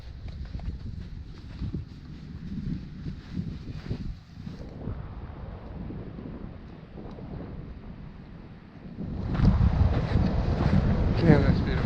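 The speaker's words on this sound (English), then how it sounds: "so you can enjoy the sounds of the ocean" Wind buffets the microphone as ocean water washes and churns nearby on the Lost Coast, swelling into a louder rush of surf toward the end.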